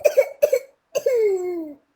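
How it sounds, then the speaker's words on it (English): Three coughs from a person, the first two short and close together, the last a longer drawn-out hacking cough trailing off, heard up close with no talking. "Oh, I know that cough."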